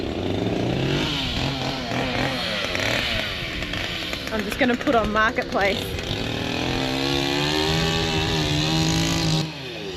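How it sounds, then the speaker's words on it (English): A petrol chainsaw buzzes and revs continuously at close range, its pitch rising and falling, while someone briefly speaks over it. "Petrol chainsaws are the worst."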